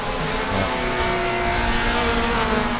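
A 1990s race car in a 1.5-litre sedan class at the Bira circuit, its engine droning steady and loud nearby with a sustained buzzing tone, no talking over it.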